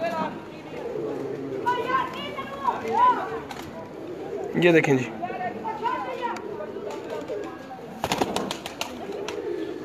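Racing pigeons in a loft at Lilyani coo and flutter in soft, repeated calls close by, mostly beneath steady conversation between several men.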